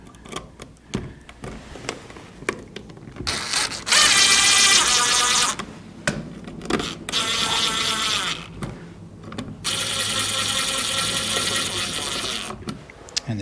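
Screws are driven into a light switch on a new second-floor lighting circuit, with short bursts of whirring driver noise separated by brief clicks and handling sounds, close and fairly loud.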